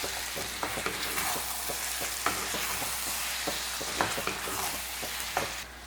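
Onion and tomato fry in oil with a steady sizzle while a spoon stirs the pan, giving soft scraping taps at a few points over the bubbling.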